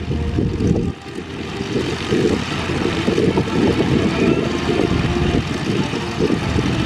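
A propeller biplane with a 300-horsepower, 9-cylinder Lycoming radial engine runs at an airshow, its loud, rough, throbbing drone steady and close with a brief dip near the start, no talk heard.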